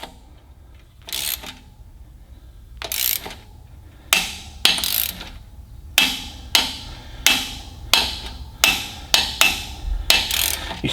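Metal tool striking and ratcheting a turbo clamp on a Caterpillar 3406B diesel engine, a dozen sharp close clanks coming faster and more regularly toward the end.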